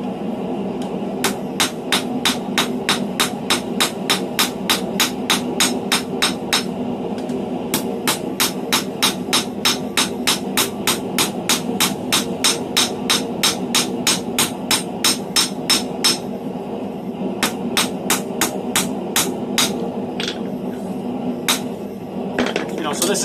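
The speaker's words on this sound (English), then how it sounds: "a much softer hammer, medium carbon hammer" A medium carbon hammer strikes a knife blade on an anvil in a blacksmith's forge, ringing out in rapid, steady metallic blows in several long bursts with short pauses.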